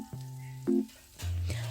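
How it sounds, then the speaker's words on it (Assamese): Potatoes and spices fry in a pan for a banana flower curry, giving a steady sizzle with a few brief louder bursts over a low, even hum. "আলু আৰু মছলাখিনি ভালকৈ অকণমান সময় ভাজি ল'ম"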